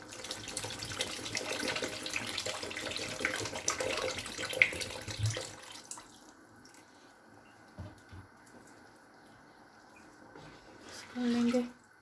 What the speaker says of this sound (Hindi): दो गिलास पानी शामिल कर देंगे।